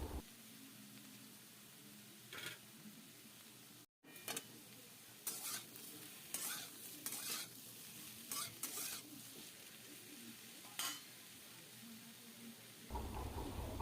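Potato and brinjal curry frying in a pan over a medium flame, with a steady sizzle and repeated scraping stirs, one brief dropout midway and a louder sizzle near the end.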